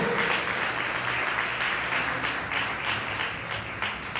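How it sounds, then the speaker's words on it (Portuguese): A church congregation at a Portuguese-language restoration seminar claps loudly and continuously, a thick wash of many hands filling the room for several seconds with a faint background hum and no talking. "Pode aplaudir o Senhor."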